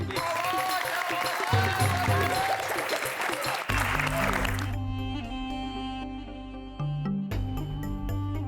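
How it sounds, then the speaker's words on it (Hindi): Applause for a trophy winner at a college award ceremony, with steady crowd clapping blended under loud music that carries through the whole stretch. "तालियां रुकनी नहीं चाहिए, बजाते रहो"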